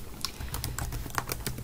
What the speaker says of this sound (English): I'm going to type project